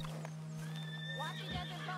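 A horse in the video game Red Dead Redemption 2 lets out a clear neigh over a steady electronic hum, followed by a low snort and clopping, with a voice talking faintly underneath.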